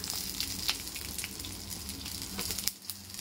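Bay leaf, dried chilli and cumin sizzle in hot oil for a dal tempering where a fish head was fried, a steady crackling hiss with brief sharp pops, ending in a short quieter dip.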